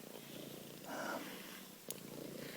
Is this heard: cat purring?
yes